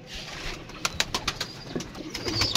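Red-eyed pigeons cooing, their soft throaty coos repeating in short bursts close to the microphone, with a few sharper calls mixed in over a light background hiss.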